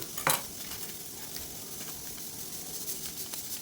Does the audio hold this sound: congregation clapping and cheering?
no